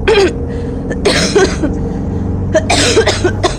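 A woman coughs in several harsh bursts, clustered at the start and again near the end, loud and close, with a low engine-like hum beneath.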